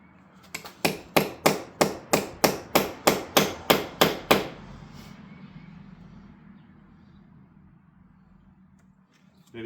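About a dozen sharp, evenly spaced blows from a small hammer ring out on metal while working on a 340 Dart car, then stop, leaving a fading low rumble.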